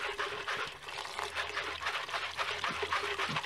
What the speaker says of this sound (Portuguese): Aqui agora a gente enxágua bastante,